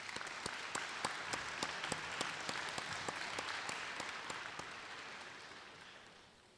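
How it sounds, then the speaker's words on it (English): Audience applause for award recipients at a middle school awards ceremony: a soft, distant round of clapping with some distinct individual claps, holding steady and then fading out, with no voices over it. "Let's give them a round of applause."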